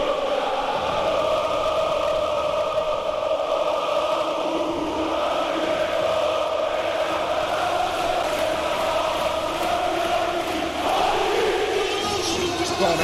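A European basketball arena crowd chants in unison, a loud, sustained roar of many voices holding steady across the whole stretch with no pauses.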